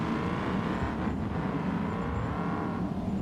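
A car engine in the BeamNG.drive racing game drones steadily during a hill climb on a tarmac track, a continuous close motor hum with a slight rise as it accelerates.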